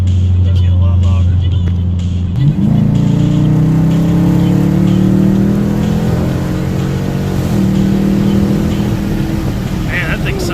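A tuned 2017 Ford Focus RS with an aftermarket AWE exhaust gives a loud engine drone rising steadily in pitch as it accelerates, a deep exhaust note sustained throughout with a brief dip near the middle.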